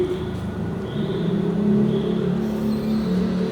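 Motorcycles pass on a nearby road: a steady low engine rumble that swells gently and fades, with no talking.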